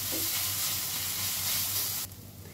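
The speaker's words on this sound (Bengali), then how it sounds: "খুব ভালো করে নাড়াচাড়া করে একটু ভাজা ভাজা মতো করে নেব।" Ginger sizzles steadily in a hot pan while being stirred, a loud, continuous frying hiss that drops off sharply near the end.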